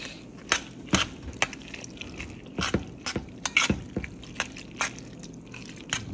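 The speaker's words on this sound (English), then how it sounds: "I'm about to just give this all a nice stir" Stirring a thick mix of ricotta, sour cream and Monterey Jack cheese in a bowl: soft, wet, squelchy spoon strokes at an irregular pace, close and fairly quiet.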